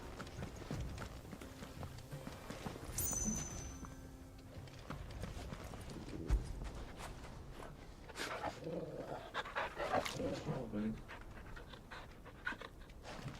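A dog pants steadily in the Final Fantasy 16 video game while its footsteps clip-clop along at a walking pace, close and continuous, with a brief louder bark-like accent partway through.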